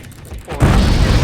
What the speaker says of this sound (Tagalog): Ah. Yung fireworks.